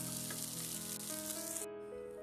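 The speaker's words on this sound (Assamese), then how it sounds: "আৰু শেষত অলপমান গৰম মছলা দি এনেকৈ লাৰি দিছোঁ।" Chicken sizzling steadily in a hot pan with lemon juice and garam masala being stirred in, a continuous close frying hiss with light stirring scrapes and no talking.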